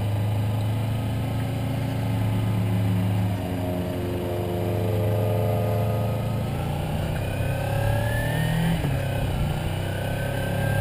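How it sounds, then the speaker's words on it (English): Kawasaki Ninja 300 motorcycle engine, heard from the rider's seat on a test ride: a steady, loud whine with a droning low hum that holds through the whole stretch, rising slightly in pitch near the end, with no talking. "it's got that Ninja 250 whine"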